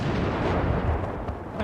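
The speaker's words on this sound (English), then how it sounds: "airstrikes" Airstrike blasts in a role-play video game, booming low rumbles with a few sharp thuds near the end, loud and close over a short burst, no talking.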